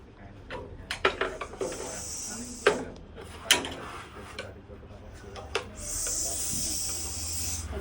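A Russell's viper hiding in a window hisses in two long, harsh bursts after being prodded with a stick, amid clattering knocks and people talking nearby.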